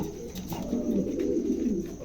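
Pigeons coo in a low, steady murmur, a pair of show-quality birds offered for sale, their throaty warbling continuous and fairly close throughout.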